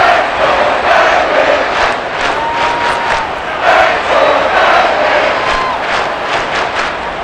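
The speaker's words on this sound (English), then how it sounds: "How about some applause for the defense there?" A stadium crowd roars in a Madden NFL 23 simulation of the Seattle Seahawks against the Minnesota Vikings on PS5, as a loud, sustained wash of cheering with swelling surges and no break.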